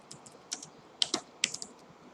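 Quick bursts of typing on a computer keyboard, a handful of light, close key clicks spread unevenly over a couple of seconds in a quiet room.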